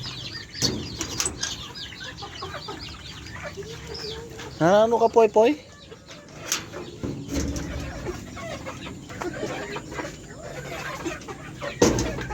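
Young turkeys and chicks peep and cluck close by while a person talks intermittently; a brief rooster-like call rises in the middle amid scattered farmyard noise.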